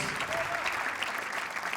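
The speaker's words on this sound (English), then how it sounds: "Let's give her a big round of applause" Audience applause at a 10m air pistol women's team final in Wroclaw, Poland: a steady, even patter of clapping, moderately distant, with faint voices mixed in.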